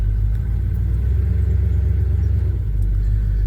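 An old Chevy C10 pickup truck engine idling, a loud, steady low rumble with an even throbbing pulse, close by and heard alone without talk.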